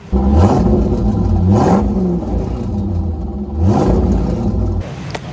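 A Corvette C5 Z06 V8 with an LS6 intake and SLP exhaust revs hard on a dyno in repeated bursts, rising and falling several times, loud and close with a deep rumbling idle between pulls.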